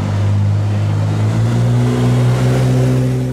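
A safety vehicle car on a Daytona rally route drives past, its engine a loud, steady mid-pitched drone that rises slightly in pitch as it goes by close to the listener.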